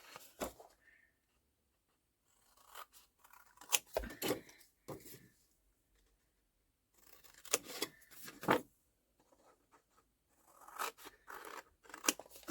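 Scissors snip paper pieces off a handmade mini pocket folder in several clusters of crisp, close cuts and rustles, each group separated by quiet pauses.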